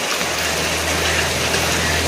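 Heavy rain pours down steadily outside a house with a flooded front yard, a dense continuous hiss of drops drumming on surfaces with no break.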